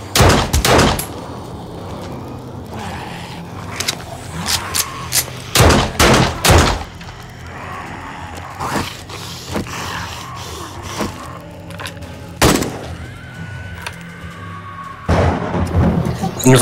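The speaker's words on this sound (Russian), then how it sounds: "Мне тут стрельба получилась." Video game gunfire breaks out in sharp, loud bursts, some in rapid clusters and others as single shots, with quiet gaps between them and occasional voices.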